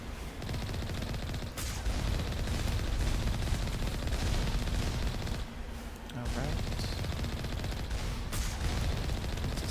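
Automated turrets firing in the sci-fi shooter Mass Effect Legendary Edition, rapid continuous bursts of gunfire with dense crackling shots and short pauses, speech faintly underneath.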